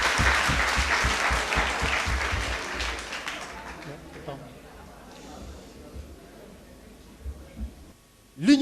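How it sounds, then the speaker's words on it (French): Audience at a French-language student debate applauding the jury president; steady loud clapping for about four seconds that thins out and dies away, followed by a quiet room and a few brief noises. "s'il vous plaît, applaudissez pour ce grand homme"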